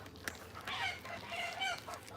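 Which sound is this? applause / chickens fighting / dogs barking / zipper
chickens fighting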